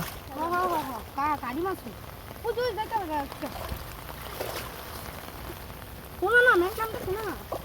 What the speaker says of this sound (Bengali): বৃষ্টি বাইরে, ওই দেখো আকাশে প্রচুর মেঘ করছে।